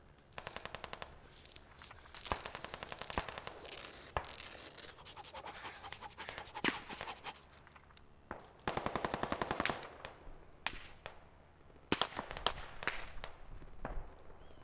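Machine gun fire from the military shooter Squad rattles in several sharp, rapid bursts, some close and loud, others more distant, spread across the whole stretch with no talk.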